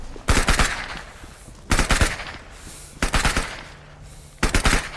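Gunfire in a horror video game: four separate loud bursts of rapid automatic shots, each lasting under a second, spaced roughly a second apart, with a quieter hum between them.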